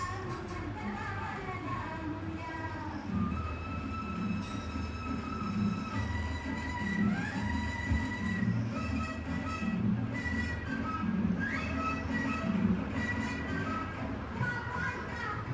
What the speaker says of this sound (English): this is the second smallest working train in the world